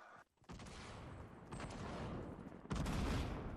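Bombs exploding during a Fortnite squad match, a burst of dense, loud blasts and crackling fire rolling on continuously, briefly dipping near the start and swelling again toward the end.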